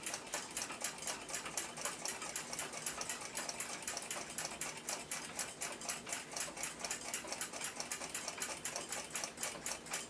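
An antique 1880s Swiss Patek Philippe pocket watch ticks close up in a fast, even mechanical rhythm, faint and steady with no voices.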